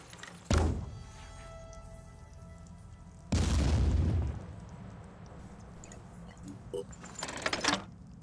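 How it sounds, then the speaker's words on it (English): Bombs exploding in the video game Phoenix Point: two heavy booming blasts a few seconds apart, each with a deep rumbling tail, followed by smaller pops and a cluster of crackling bursts near the end. "Fine, we keep bombing."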